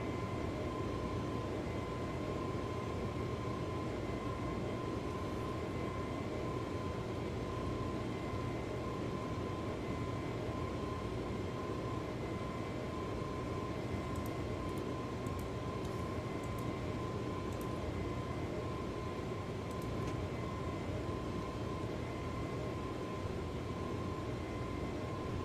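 An Airbus A320neo climbs after takeoff in Microsoft Flight Simulator 2020, a steady engine roar with a constant whine running evenly and unbroken throughout, moderately quiet and with no voices.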